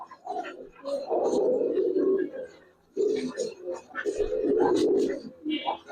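Giribaz pigeons coo in low, throaty rolls in two bursts with a short pause between them, close to the listener, and a voice speaks in between.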